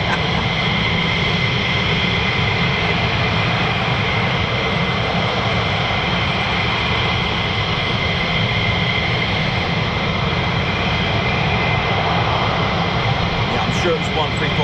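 A USAF F-15E Strike Eagle jet of the 48th Fighter Wing climbs out from RAF Lakenheath, giving a continuous loud broadband engine roar that holds steady throughout.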